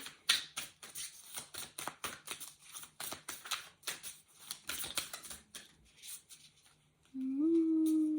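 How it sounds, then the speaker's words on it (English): A deck of oracle cards shuffled by hand, a quick run of crisp riffling snaps and taps, close and fairly quiet, ending before a held tone. "Let's have a little shuffle and see what comes through."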